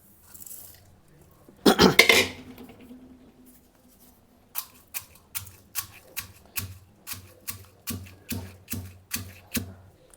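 Ingredients for kai gojju, a village-style dish, are pounded coarsely by hand: after a short clattering burst, about a dozen sharp, evenly spaced thumps strike at a steady rhythm, close and clear with little else around.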